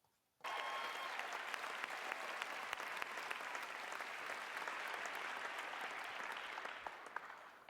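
Award show audience clapping for Michelle Yeoh at the Oscars, a sudden onset of dense, sustained applause from a large crowd after a moment of quiet, steady and even to the end.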